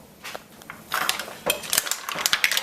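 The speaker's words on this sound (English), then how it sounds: "I'm going to mix this thoroughly" Curry with beer stirred in a pot for a Caribbean seafood dish, heard as a quick run of scraping, clinking utensil-against-metal strokes that grow busier and louder after the first second, with no voices.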